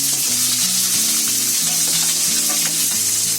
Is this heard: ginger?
yes